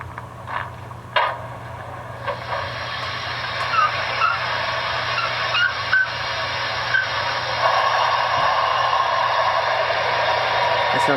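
A model Santa Fe 4000 class 2-8-2 steam locomotive's Paragon 4 sound system starts up with a few clicks, then a steady low rumble and hissing chuff that holds on without a break.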